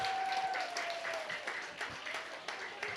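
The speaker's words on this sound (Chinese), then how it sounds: "我们掌声鼓励" A church congregation claps to welcome a first-time visitor during a Sunday service, a short, steady burst of applause with a few voices mixed in.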